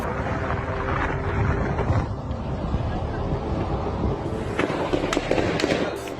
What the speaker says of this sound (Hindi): नॉर्थ कीव में सड़क पर जबरदस्त फायरिंग हो रही है, सैकड़ों गोलियां चल रही हैं।